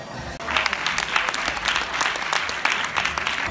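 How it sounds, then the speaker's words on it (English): A crowd applauds the cast of the film By My Side at a meet-up, starting after a brief quiet moment and holding as a busy, fairly close patter of claps with a few voices mixed underneath. "Please give a big round of applause to the cast, everyone."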